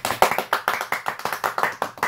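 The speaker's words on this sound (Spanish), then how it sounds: "Un aplauso." Brisk clapping from a small group of coworkers gathered to chat, quick close hand strikes in a lively, slightly uneven rhythm, short and with no talk over it.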